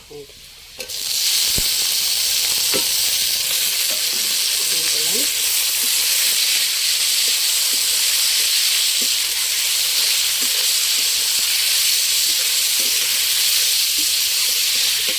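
Mashed plantain and boiled potato drop into a pan of frying onions, giving a loud, continuous sizzle and hiss that starts abruptly and holds steady with faint stirring clatter.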